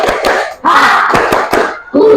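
A group of people in a classroom or religious study session perform a rhythmic tepuk buha clap, with sharp hand strikes in a quick patterned sequence and bursts of shouted voices between them, loud and close.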